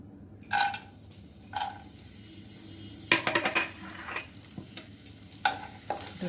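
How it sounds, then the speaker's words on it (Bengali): Cashews and raisins shallow-frying in ghee in a pan for carrot laddu, with intermittent clinks and scrapes of stirring over a soft sizzle; no voices. "একটু শ্যালো ফ্রাই করে নেবো কাজুটা কিশমিশটা।"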